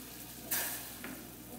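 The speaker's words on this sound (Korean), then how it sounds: "숙주 먼저 데치겠습니다" Bean sprouts go into a pot of lightly salted boiling water for blanching, making two brief, splashy hisses a moment apart over a quiet, steady background.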